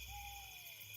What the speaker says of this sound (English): the occasional owl in a tree